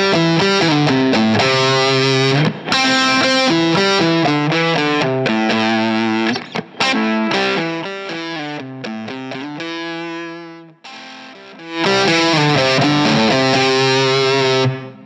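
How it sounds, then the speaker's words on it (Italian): An electric guitar is played through a distortion pedal and an ambient effect, giving sustained, saturated chords and notes with lingering tails. The volume swells down and back up, near and loud, with no voice. "Accendo una distorsione, poi accendo un effetto ambiente."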